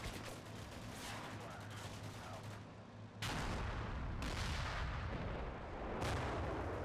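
A tank firing its main gun in the Cold War tactical game Combat Mission: Cold War: a continuous crackle of distant fire, then heavy booming shell blasts that land about every second and hit harder in the second half.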